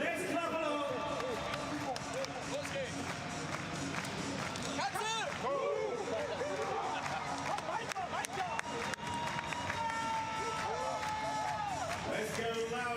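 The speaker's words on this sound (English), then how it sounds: "Let's clap along." An arena crowd at a wheelchair basketball game at the Invictus Games in Düsseldorf claps along steadily, rhythmic group clapping with cheering under an announcer's voice and the squeak and bounce of play on court.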